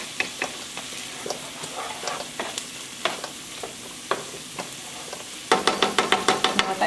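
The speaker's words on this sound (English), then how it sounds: "anytime we're sauteing onions and garlic, whether it's in oil or whether it's in butter" Onions and garlic sauté in oil or butter as a spoon stirs the pan in a run of clicking, scraping strokes over a low sizzle, the stirring quickening into a louder, rapid series at the end.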